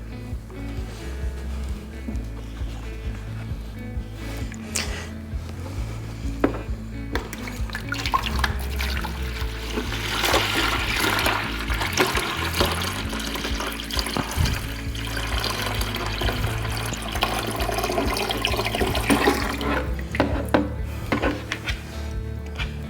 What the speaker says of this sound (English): we are going to fill it with water to the fill line that's right here